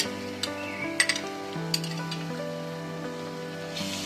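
Ginger garlic paste frying with softened onions in a pan for a goat meat curry sizzles steadily, with a few sharp metallic clinks of a spoon against the pan and soft stirring, close by and with no speech.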